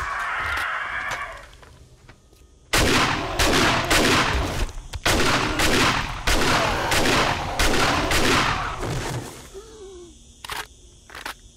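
Shotgun blasts in the survival game 7 Days to Die fire in a rapid run of loud, sharp reports, one after another with brief gaps between, ending in a couple of lone shots and a quieter tail.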